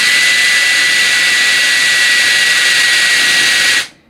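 A HEIXUE handheld brushless mini turbo jet fan, rated at 110,000 RPM, runs at full speed with a loud, steady, jet-like whine and hiss held close to the microphone, then cuts off abruptly near the end.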